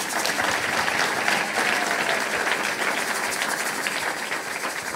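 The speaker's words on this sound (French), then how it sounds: "Est-ce qu'on peut acclamer pour cela?" A church congregation applauding and cheering together, a steady dense wash of clapping that carries on for the whole stretch without letting up.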